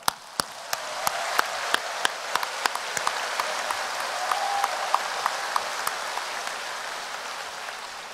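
An audience applauds at the opening ceremony of the 2023 Asian Weightlifting Championships in Jinju. Steady, hissing clapping is heard throughout, with a few sharp, distinct claps standing out nearby, and no talking.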